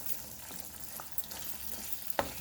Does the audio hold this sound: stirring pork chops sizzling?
yes